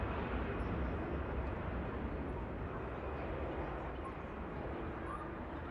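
A Jet2 Airbus A321 at Manchester Airport gives off a faint, steady broadband jet roar heard from a distance, fading slightly over the few seconds.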